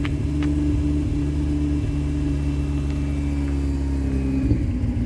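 A Mazda RX-8 rotary engine runs just after starting while the car smokes badly, a steady low droning idle close by with a faint rise near the end.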